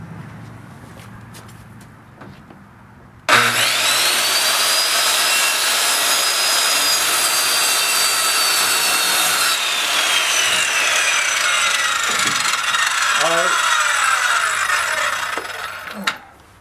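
Wood being sawn along a previously cut notch: after a quiet start, a loud, continuous rasping cut with a steady whine runs unbroken for about thirteen seconds, then stops abruptly.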